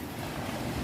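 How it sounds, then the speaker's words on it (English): Rough ocean waves at a beach, a close, continuous roar of surf mixed with wind buffeting the microphone, no voices. "Look at the ocean. It's rough."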